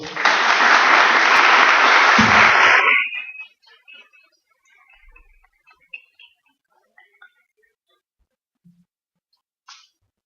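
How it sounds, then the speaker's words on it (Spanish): Loud burst of applause from an audience at a cultural talk in Tucumán, dense clapping for about three seconds before cutting off into near silence with a few scattered small knocks and rustles. "Un aplauso,"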